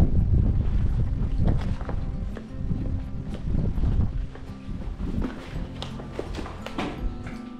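Strong wind at Kavalesaad View Point in Amboli buffets the microphone in heavy, uneven gusts with rumbling and occasional knocks.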